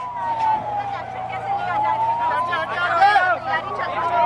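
Wailing sirens sweep up and down during a mock drill blackout in Bhopal and Indore, Madhya Pradesh, continuous and fairly loud over a murmur of crowd voices and street noise.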